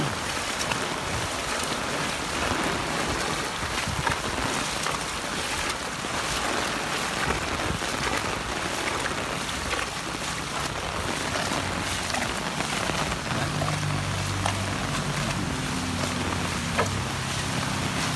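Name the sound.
heavy rain falling, with hail, at a roundabout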